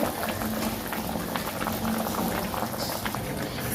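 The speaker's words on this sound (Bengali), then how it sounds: "এই দেখো এটা ফুটছে" Soaked rice boils in a kadai, a continuous close bubbling and popping that stays steady throughout with no talk.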